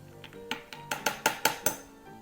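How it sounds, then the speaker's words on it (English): Spoon clinking against glass while a Gin Rickey cocktail is stirred, a quick series of about six bright, close chinks in an even rhythm, heard alone. "Now, let's just give that a stir. We just want to mix everything together."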